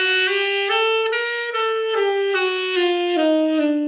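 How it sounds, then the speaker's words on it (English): A sustained melodic instrument plays a major bebop scale with an added half step, moving note by note in an even, legato line, clear and alone with no voices. "some people refer to this as a major bebop scale"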